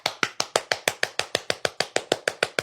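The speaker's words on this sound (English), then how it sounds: "I'm clapping for myself." A single person claps their hands alone in a steady, even rhythm, about a dozen sharp, close claps ringing out over roughly two and a half seconds with no talking.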